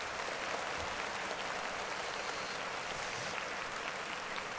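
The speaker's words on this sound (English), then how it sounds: "Clap it up for Michael Jackson." Steady applause from an audience, a thick, even patter of many hands clapping together, moderately distant, continuing without pause and with no voices on top.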